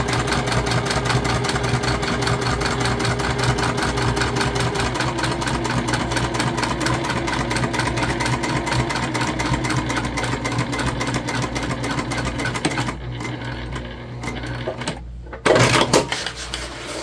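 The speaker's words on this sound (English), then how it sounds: "we're just sewing at about 1/8 of an inch seam allowance" A sewing machine stitches a big tote bag seam at about an eighth-inch allowance, running in a steady, rapid whir that halts near the end, followed by a brief louder clunk and a pause.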